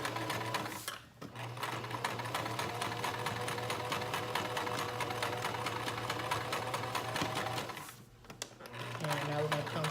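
A sewing machine runs steadily while stitching a onesie, its fast even rattle continuing almost throughout with two brief pauses; a person talks over it.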